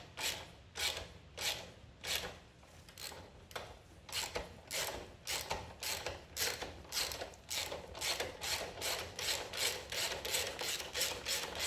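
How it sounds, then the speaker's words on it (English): A 13mm socket ratchet works loose a rusty motorcycle brake pedal bolt, giving a steady run of close, regular clicking strokes that speed up and grow denser toward the end, with no talk. "Using a 13mm socket, undo the brake pedal."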